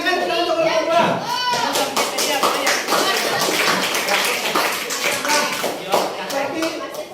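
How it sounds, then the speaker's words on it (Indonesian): Classroom clapping for a student group, dense overlapping claps mixed with children's chatter and shuffling, steady and close throughout. "Silakan tepuk tangan untuk kelompok 2"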